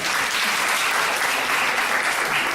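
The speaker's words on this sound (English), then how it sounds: "Give them a round of applause." An audience claps steadily and densely at a children's music recital in New York, a continuous close burst of applause with no voices standing out.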